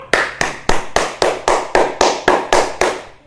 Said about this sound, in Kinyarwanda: Clap your hands fast and loud.